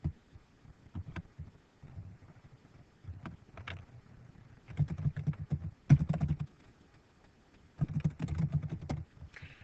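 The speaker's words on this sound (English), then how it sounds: "I'm going to type that up here." Typing on a computer keyboard, several short bursts of soft clicking keystrokes separated by pauses, close and fairly quiet, with no voices.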